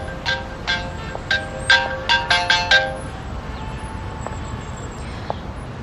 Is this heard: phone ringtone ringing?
yes